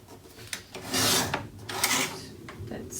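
Paper being trimmed for a Stamperia Grand Hotel mini album, a rasping, scraping cut lasting a second or so with a second stroke after it, close and fairly quiet, with soft handling noises around it.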